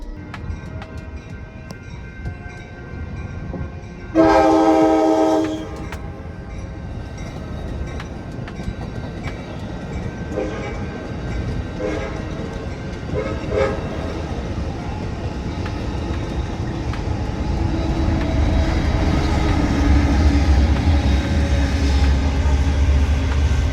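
A train passing close by, a loud horn blast sounding briefly near the start, then a steady rumble of rail cars and wheels building toward the end.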